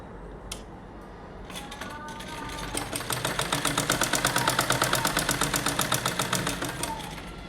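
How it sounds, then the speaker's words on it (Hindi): Sewing machine stitching cloth for a 12-inch doll's dhoti kurta, starting with faint handling sounds, then a steady, rapid, loud run of needle strokes, with a brief pause near the end. "इसी क्रीच के दूसरी साइड में भी हम एक पैर की सिलाई लगा देंगे"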